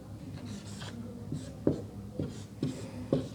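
Marker strokes on a board as a basic mass-spring-damper mechanical system diagram is drawn, with short squeaky scratches and taps in an irregular rhythm, close and clear, with no talking.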